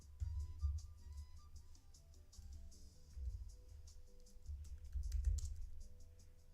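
Faint clicking taps of typing on a computer keyboard, in irregular bursts over low background hum and rumble.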